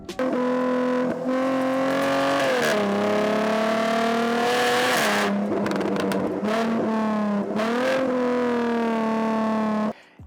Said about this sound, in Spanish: no hay ningún motor V6 que salga de fábrica sonando así de bien